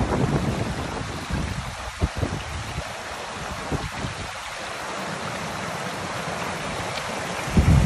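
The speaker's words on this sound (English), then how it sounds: "Here is a beautiful freshwater stream running down through the boulders on the beach." Freshwater stream running down through chert boulders on a Jurassic Coast beach, a steady rushing wash of water, close and fairly loud, with some wind buffeting and no voices.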